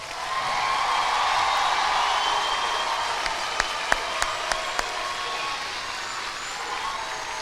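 Sustained applause from a large graduation crowd honoring a high school's class of 2026, a steady dense roar of clapping filling the hall with a few sharp isolated claps near the end.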